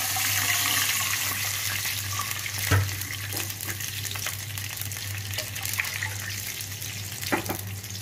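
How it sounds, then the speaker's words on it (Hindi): Water poured into a pan of frying garlic for rice pulao, a steady hissing sizzle and running-water rush throughout, with a louder splash near the start and a few clinks of a utensil, no talk. "अब हम इसमें पानी शामिल करेंगे"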